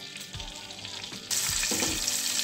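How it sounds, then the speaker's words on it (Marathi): Cumin and mustard seeds hit hot butter for pav bhaji, bursting into a loud, steady sizzle about halfway through after a quieter stretch of low crackle, close and continuous with no voices. "आता हे गरम झाल्यानंतर थोडं आपल्याला जिरं आणि मोहरी टाकून घ्यायची आहे।"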